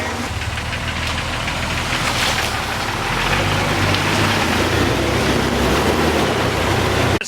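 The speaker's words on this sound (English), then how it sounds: "This is my 2000 Jeep Wrangler TJ." A lifted 2000 Jeep Wrangler TJ on 32-inch tires grinding along an off-road trail ride: a loud, continuous engine rumble with a rough, knocking texture and wind-like noise over it, steady throughout with no talking.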